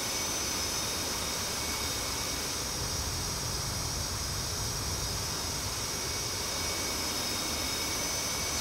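An F/A-18 Hornet jet engine in a flight simulator game makes a steady, dense, even roar that holds unchanged throughout, with no voices.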